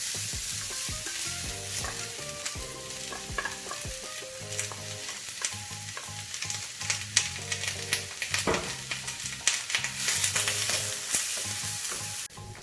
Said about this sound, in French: on a fait fondre les oignons sans translucide